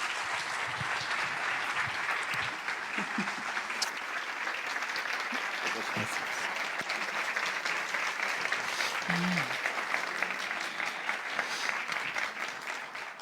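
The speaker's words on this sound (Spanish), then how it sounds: "Reciban a nuestros invitados otra vez con un aplauso así general para los dos." Audience in a theatre gives sustained general applause for two guests at a talk event on religion and atheism, steady dense clapping filling the hall with no one speaking.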